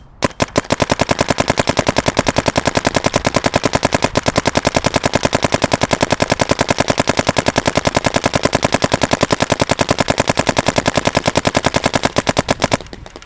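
Dye M3+ paintball gun firing a long, steady rapid-fire string of sharp, evenly spaced shots for about twelve seconds, loud and close, with no talking, then stopping abruptly.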